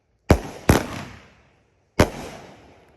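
Phantom Fireworks 12 shot Silver Sonic Warhead cake fires three loud, sharp bangs close by, two in quick succession and a third after a pause, each trailing off into a crackling decay.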